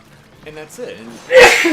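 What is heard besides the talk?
sneeze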